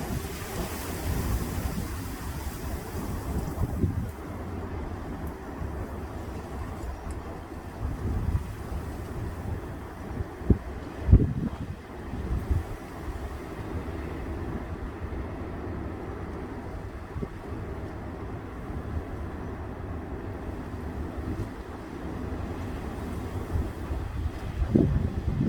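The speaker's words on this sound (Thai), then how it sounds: "ลมแรง" Strong wind buffets the microphone outdoors in a steady, loud rumbling roar for the whole stretch, with occasional heavier gusts and thumps and no one speaking.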